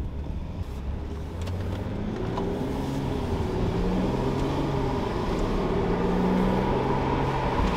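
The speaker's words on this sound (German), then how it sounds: "also die Drehzahl so ein bisschen schwankt" A BMW 535i idles while stationary with slight misfires, its steady engine drone wavering as the RPM fluctuates, heard close and alone without talk.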